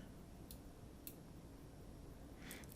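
Two faint, sharp mouse clicks a half-second apart on the Minitab run button in quiet surroundings, followed by a slightly louder click near the end.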